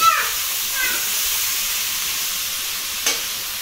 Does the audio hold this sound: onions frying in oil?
yes